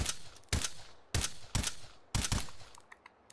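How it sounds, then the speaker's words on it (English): Gunfire in the VR shooting game H3VR: five or six sharp shots in quick, uneven succession, the last few doubled, each with a short decaying tail, fairly faint overall. "VR shooting sucks"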